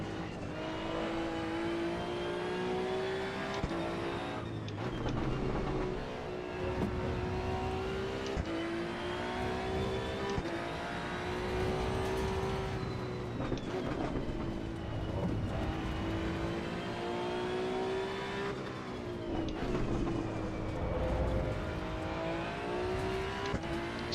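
A Datsun 240Z inline-six in the racing game Assetto Corsa EVO, revving hard and holding high, droning pitch, rising and dipping through gear changes while tires slide and squeal. It stays loud and near throughout.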